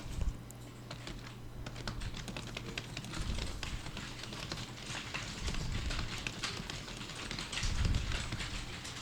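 Someone types on a computer keyboard, entering text into a Photoshop text field with quick, uneven clicking keystrokes at close range, steady throughout with a low hum underneath.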